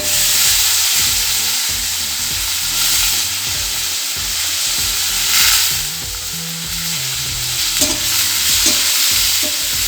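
Washed cluster beans (gavar) drop into hot oil with asafoetida and turmeric, giving a steady, loud sizzle and frying hiss throughout, with occasional stirring scrapes and clatters underneath.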